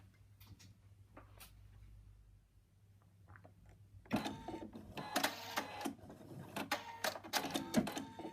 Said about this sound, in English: We're now going to stitch the outline of the eye.